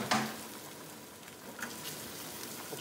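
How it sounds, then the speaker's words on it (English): Chilli, ginger and garlic fry gently in a pan as prawn linguine is being cooked, a soft, steady sizzle with a few brief crackles and stirring clicks, quiet and close. "just let them fry there gently"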